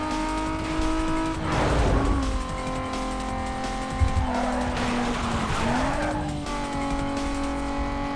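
Race car tires squeal and skid in the video game Need For Speed: Most Wanted, two long screeching slides over a steady, high engine drone, the car loud and close throughout.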